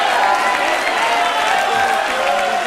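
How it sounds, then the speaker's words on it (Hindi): Studio audience applause at a televised courtroom-style interview show, a steady dense wash of clapping held at even loudness for the whole stretch, with some crowd noise and voices mixed in. "ताली बजाओ।"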